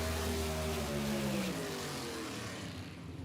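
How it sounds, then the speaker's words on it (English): Drag race car performing a burnout at Brainerd Motorsports Park to heat its tires, a steady distant engine roar with falling tonal whine that gradually fades. "Wayne Swalford trying to get those tires good and hot"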